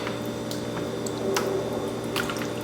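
Raw chicken pieces are stirred by hand in a bowl of warm water with vinegar for frying, giving wet squishes, drips and sloshing splashes at an irregular pace, close up with no talk.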